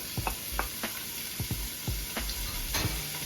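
Carrot, Irish potato, garlic and onion sautéing for a brown stew fish sauce, a soft sizzle broken by several sharp scrapes and knocks of a stirring utensil in the pan, close with no talk.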